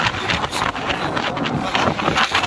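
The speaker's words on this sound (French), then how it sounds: "Il y a du vent" Steady broadband wind rushing across the microphone on the Col de l'Iseran mountain pass, about 2800 m, in summer; loud and continuous with gusty swells, no voices.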